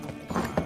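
Horse hooves clip-clopping with a short whinny in The Witcher 3 video game, a brief burst of steady hoofbeats with speech-like murmur underneath.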